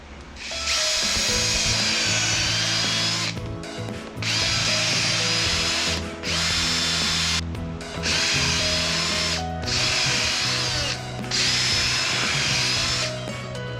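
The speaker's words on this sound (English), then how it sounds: "starting to drill all the way around this thing on both sides" A power drill bores repeatedly around a urethane lower control arm bushing on a Porsche 911 996 or Boxster 986, the workpiece clamped in a vise; six loud, close bursts of drilling with short pauses between them, no talk.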